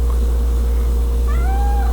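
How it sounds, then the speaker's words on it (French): A cat meows loudly and close by, giving a rising, drawn-out call over a steady low hum, with no talking. "il y a un chat"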